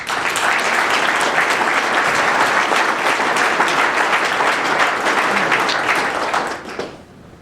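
A large audience applauds steadily to welcome a keynote speaker at an opening session, dense continuous clapping filling the room for about six seconds before tapering off.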